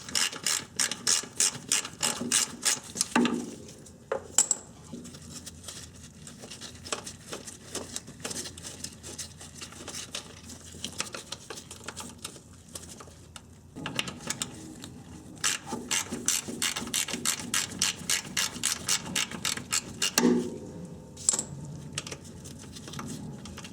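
Ratchet wrench clicking in rapid bursts while loosening 10mm bolts on the brakes of a 1990-1997 Honda Accord, close and crisp, with short pauses between runs and no talk.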